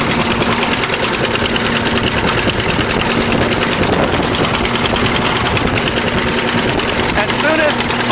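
A 1953 bulldozer's gasoline starting engine runs steadily while warming up, a loud, continuous idling rumble with some knocking throughout, and people talk over it now and then.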